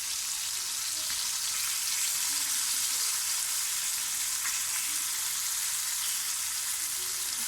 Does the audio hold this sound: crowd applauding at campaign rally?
no